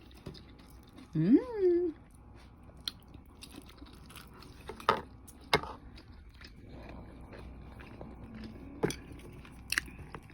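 Crunchy bites and chewing of a yasai salada, a Japanese onion salad made with raw tamanegi onion, heard as a few close, sharp crunches spread through the clip, with a brief voice near the start.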